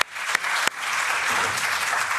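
A conference audience warmly applauds its speakers, the clapping swelling into a full, continuous roar of hands with a couple of sharp nearby claps early on.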